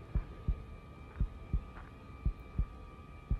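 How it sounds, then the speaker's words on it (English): Heartbeat from a movie trailer soundtrack, a steady low thumping pulse of about seven beats over a faint hum, alone and fairly quiet. "apparently he's alive because I hear a heartbeat"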